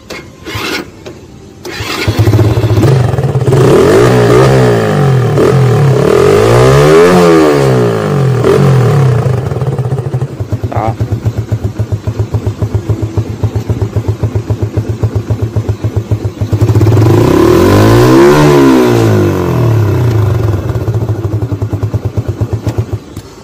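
A Honda Wave 112.5cc motorcycle after more than 2,000 km, starting, then idling loudly nearby with two rising-and-falling revs of the exhaust, steady idle between them, no talk.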